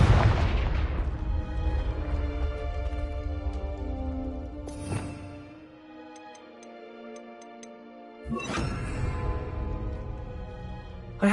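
Confringo fire spells blast in the Hogwarts Legacy video game: one loud crackling explosion opens the clip over a game soundscape with a faint ticking, and a second sharp burst hits near the end.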